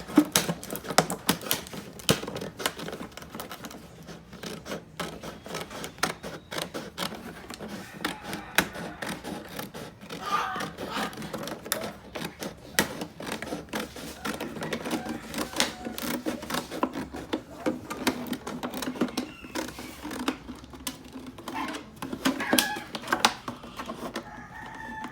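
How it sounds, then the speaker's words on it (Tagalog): Scissors cut a plastic bottle in half for a recycled-bottle planter, making a long run of dense, crisp crackling snips and clicks that continue almost without pause at moderate loudness. "Gagamitan natin ng gunting."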